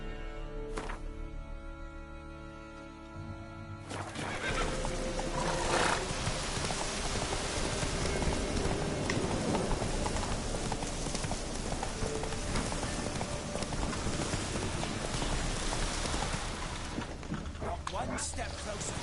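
Roach, a horse in The Witcher 3: Wild Hunt, neighs and her hooves clop in a run that picks up after a quiet start and continues under game ambience and spoken voices.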